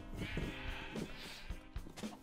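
Sheep bleat in Minecraft as a player pushes through a crowded flock, several short, muffled bleats overlapping at an irregular pace over a low background bed.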